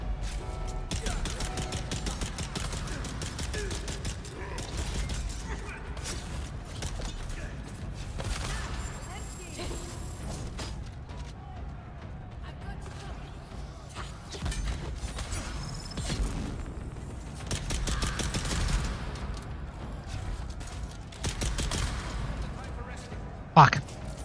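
Gunfire in the video game Dune Awakening crackles in scattered bursts and volleys over about twenty-four seconds, mixed with clanks and game effects while a player talks throughout.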